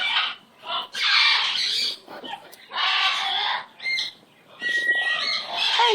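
Pet bird Romie squawks in a string of loud, harsh bursts separated by brief pauses, close to the listener, with a few thinner whistled notes mixed in.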